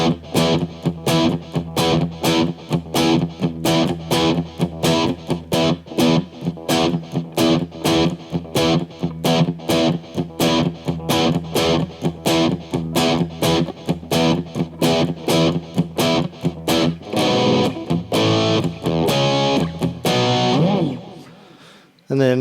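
Distorted electric guitar playing the intro riff of a song, a steady chugging rhythm of repeated strummed chords at a loud, constant level alongside backing track, bass and drums, thinning out near the end.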